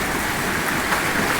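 Hail pelting down without pause in a sudden storm, pounding a street in front of a shop until it turns white; a steady, dense roar of impacts fills the whole stretch with no let-up.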